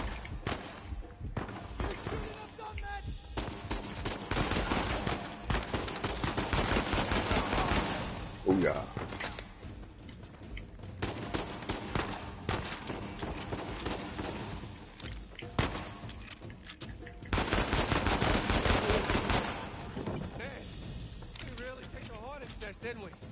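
Gunfire in the video game Uncharted 4: repeated bursts of shots and impacts in clusters, loud and close, with a voice talking between them.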